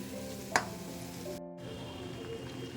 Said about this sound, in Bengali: আমি ডালিয়াটা কড়াইতে ঢেলে দিয়েছি